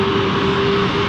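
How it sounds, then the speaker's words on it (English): A KLM airliner's engines drone steadily at a distance, a continuous loud roar with a sustained tonal hum as they rev up at an airport, with no voices. "That KLM, this one, I can hear her engines revving up."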